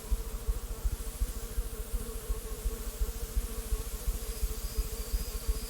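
Bees drone in the video game STASIS, a steady, loud, close buzzing that pulses rapidly and continues without a break throughout.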